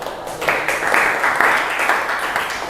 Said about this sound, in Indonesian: Tepuk tangan juga untuk semua kelompok ya.